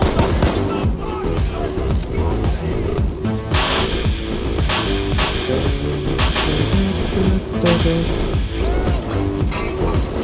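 Rapid gunfire bursts from guns in the video game Payday 2, loud and sustained over a dense mix of game noise, with clattering mechanisms and repeated sharp shots.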